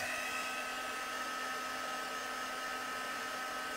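A heat tool blows a steady, quiet, even whir throughout while it melts embossing powder on a card during papercraft heat embossing.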